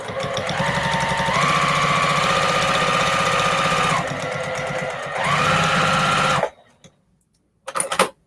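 A sewing machine stitches binding onto repurposed plate mats in two long, loud, steady runs with a brief pause and a slight pitch rise, then stops abruptly into silence before a short final burst.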